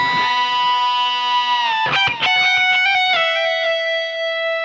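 A distorted electric guitar holds a long sustained note, then picks out a quick run of bright, singing lead notes on the rhythm pickup, loud and close.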